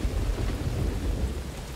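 Heavy rain in the Metal Gear Solid V game, a dense, steady wash of downpour with a low rumbling undertone throughout a short stretch, with no voices.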